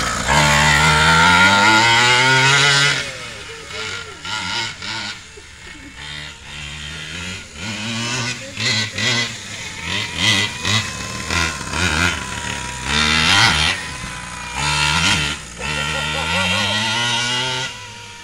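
The Raminator monster truck's huge engine roars and revs in loud bursts at a bash event, with sharp rising throttle blips and rumbling idle between them. People talk nearby over the noise.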